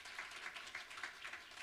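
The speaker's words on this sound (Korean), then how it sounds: "박수 부탁드리겠습니다." Audience applause at a Korean business lecture, a faint, brief patter of scattered clapping from a seated crowd, somewhat distant and thin.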